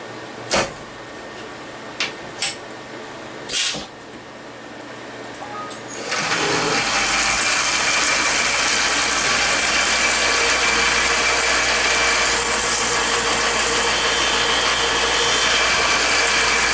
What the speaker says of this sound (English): The next operation is a number 9 stub drill, carbide stub drill.